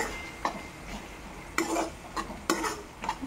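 Ginger garlic paste being stirred in a pan for tomato rice, heard as several sharp scraping strokes of the spoon against the pan, close and uneven in rhythm.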